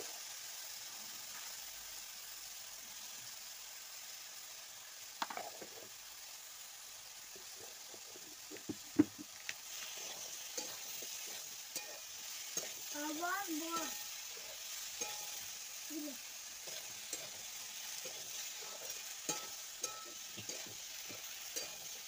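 Beans and potatoes stir and fry in a pan, a steady soft sizzle under scattered scrapes and clinks of a spoon working through the vegetables, close and fairly quiet throughout.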